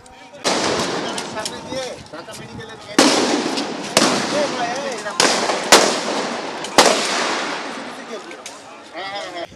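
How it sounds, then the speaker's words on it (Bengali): Loud rifle gunfire aimed at protesters in a street, with sharp shots cracking out irregularly about every second or two, each followed by a long echoing tail, close and dominating the scene. "মাত্র দেড়শো থেকে দুশো গজ দূরে আন্দোলনরতদের উপর গুলি চালাতে"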